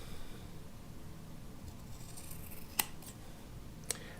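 Scissors trim close along the seam allowance of fabric for a bowl cozy, giving two quick, crisp snips against a quiet room hum, with no one speaking.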